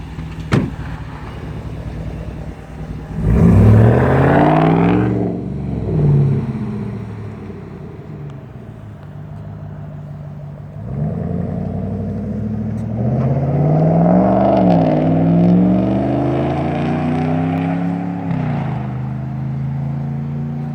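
Stock Dodge Ram Hemi pickup with a Y-pipe and muffler delete, pulling hard from a dead stop: a deep, loud exhaust roar rises through the gears in two strong surges, close by with no talking.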